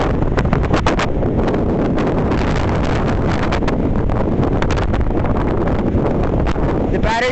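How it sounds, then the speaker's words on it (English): Strong wind buffets a microphone outdoors, producing a loud, constant roaring rumble with gusty flutters that swamp everything else for the whole stretch. "I know you guys can barely hear me for the stupid wind."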